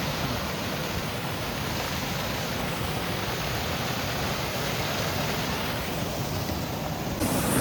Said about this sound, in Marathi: माझ्या मागे दिसतोय धबधबा. मस्त दिसतोय आणि हा छोटूसा धबधबा आहे.